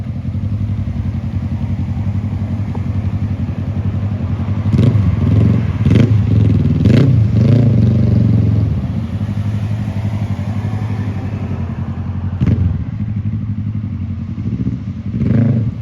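A motorcycle engine drones steadily close by, with a few sharp clattering bursts and revs partway through and again near the end.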